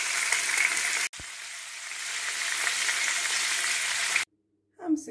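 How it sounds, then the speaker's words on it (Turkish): Anchovies coated in corn flour fry in a pan with a loud, steady, close hiss and sizzle that breaks off briefly once, then cuts out near the end before a short, faint clatter. "Mısır ununa buladığım balıklarımı tezgahıma aldım ve kızartmaya başladım."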